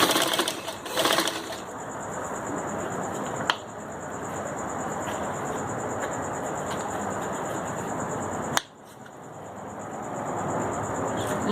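A sewing machine runs steadily while stitching a turban with cardboard stiffening, a continuous close whir broken by two brief pauses.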